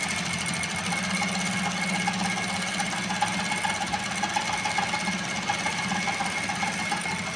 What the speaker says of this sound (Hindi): इसके बाद तीसरी सिलाई लगाई जा रही है।